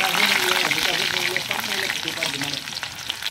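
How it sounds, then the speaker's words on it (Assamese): Broiler chicken fries with onions in a home kitchen, a loud, close, steady sizzle with stirring scrapes throughout. "ব্ৰইলাৰ মাংস মই ভাজিবলৈ লৈছোঁ"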